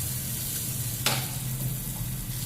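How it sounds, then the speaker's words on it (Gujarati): Masala roasts in ghee on a hot tava griddle, giving off a steady, close sizzle with one sharp scrape of a utensil partway through. No one speaks. "મસાલો નાખી ઘીમાં શેકી દેવાનું મસ્ત."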